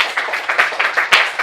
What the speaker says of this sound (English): Let us clap our hands for our resourceful debaters today's activity